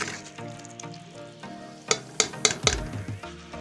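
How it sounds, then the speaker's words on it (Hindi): Masala spices fry and sizzle steadily in a pan up close, with a few sharp scrapes and taps of a stirring utensil near the end. "मसाला हमारा अच्छी तरह फ्राई हो गया है"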